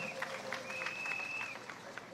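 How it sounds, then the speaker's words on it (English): Steady applause from a crowd at an Emancipation Day celebration in Trinidad and Tobago fills the space, continuous and moderately loud, with a faint whistle-like tone running through it. "Let's give her a round of applause"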